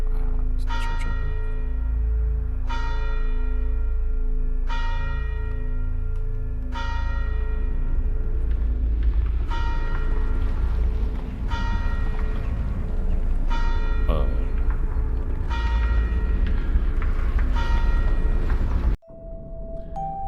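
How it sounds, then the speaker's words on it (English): Church bells tolling in a horror video game set near a church and dollhouse, loud repeated strikes with long ringing tails every couple of seconds over a low rumbling drone, ending abruptly. "Well, the church bells are ringing,"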